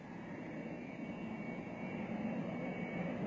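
Navy jet aircraft forming up for takeoff on a carrier deck, heard as a steady, loud, broadband engine roar that holds constant throughout with no speech.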